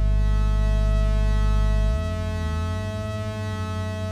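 A steady buzzy raw oscillator tone from a Moog Mavis synthesizer, rich in harmonics, holds loudly, then shifts to a lower, wavering pitch partway through; no voices.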